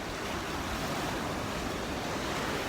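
Ocean waves breaking on a shore in Bali, a steady broadband wash of surf with light wind, continuous and fairly close, no voices.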